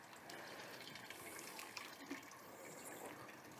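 Sparge water pours steadily onto the grain bag while brewing an all-grain brew-in-a-bag stout, a continuous soft gushing and splashing of liquid, close and unbroken, with no talking.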